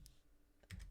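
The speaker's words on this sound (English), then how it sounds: "That's all I'm typing in there." A few quick keyboard taps near the start, then a short burst of key presses at the end, close and fairly quiet.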